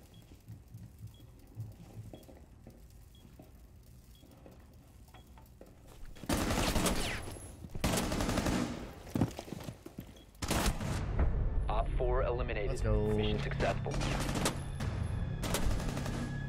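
SMG-11 submachine gun fire in a video game: rapid, loud automatic bursts with a short pause between them, the second string longer and sustained, over faint background game noise.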